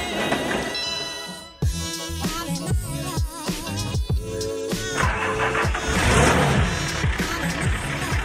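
A patrol vehicle's engine cranks and fires up, then revs and runs with a loud, busy mechanical roar that varies in pitch, with no voices heard over it.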